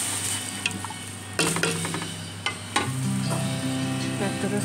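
Sautéed ingredients simmering with palm heart (umbut kelapa) and prawns in a pot, giving a steady sizzle with a few louder clatters and stirring knocks midway, close and continuous.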